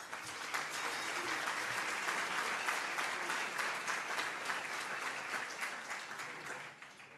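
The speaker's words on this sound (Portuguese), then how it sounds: "peço uma salva de palmas" Steady crowd applause at a political lunch event in Beja, Portugal, a continuous, moderately distant patter of many hands that tapers off near the end.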